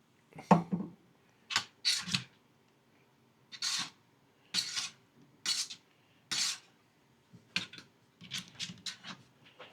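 Utensils scrape and clack through rice mixed with soy sauce in a bowl, making short scratchy strokes in an uneven rhythm at close range, with quiet pauses between strokes.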